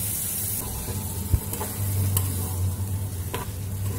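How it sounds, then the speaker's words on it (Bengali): Boiled kidney beans are stirred into a sizzling masala gravy for rajma, a steady hiss with a sharp knock and several soft scraping strokes. "এবারে আমি এই সেদ্ধ করা রাজমাটা দিয়ে দেবো এর মধ্যে"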